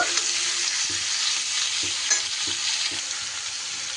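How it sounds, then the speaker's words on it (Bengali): Young jackfruit stirred and fried in a pan, giving a steady close sizzle with repeated scraping stir strokes at a loose rhythm, no voices. "এঁচুরটা একটু ভালো করে নাড়াচাড়া করে একটু ভাজা ভাজা করে নেব"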